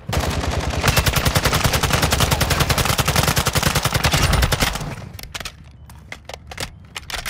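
Rapid gunshots from a gun fire in a fast, steady automatic stream for about five seconds, loud and close, then break into a few scattered single shots with gaps between them.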